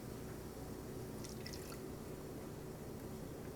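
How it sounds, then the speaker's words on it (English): Chicken broth poured a little at a time into a roux cooking in a pan, giving a faint, steady liquid trickle with light drips and no one talking. "pour a little bit at a time of that chicken broth."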